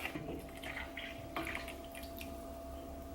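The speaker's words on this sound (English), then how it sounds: "Now we're gonna add our whipping cream" Whipping cream poured from a whole carton into a soup pot of zuppa toscana in a home kitchen. A soft, close liquid glugging and splashing with small irregular bursts runs throughout, fairly quiet.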